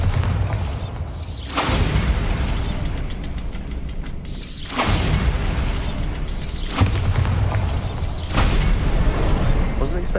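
Bombarda blasting-spell explosions in the game Hogwarts Legacy land as several loud booms with crumbling, shattering debris, each decaying into rumble, amid a continuous noisy backdrop and a player's voice.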